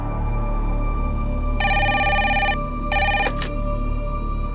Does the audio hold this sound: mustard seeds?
no